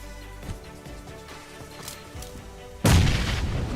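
A thrown bomb bursts in an Indian-language action video game, a sudden loud boom with a broad noisy tail after a stretch of quieter game sounds.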